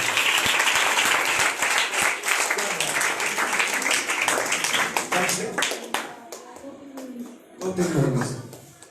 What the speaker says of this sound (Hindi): ताली बजाकर प्रभु का धन्यवाद।